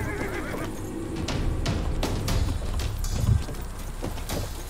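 A horse neighs and whinnies in the video game Grim Legends, with clip-clopping hooves and the creak of a carriage in a tense scene. The whinny rises loudly mid-clip over a steady bed of ambient game noise.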